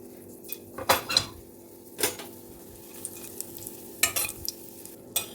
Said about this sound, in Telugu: ముందుగా ప్యాన్లో ఆయిల్ తీసుకొని ఆయిల్ వేడైనాక మజ్జిగ మిరపకాయలను వేయించి తీయాలి